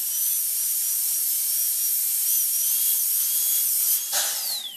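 High-pitched dental drill whine trimming the edge of a temporary crown, a steady loud tone holding throughout, then dipping and winding down near the end.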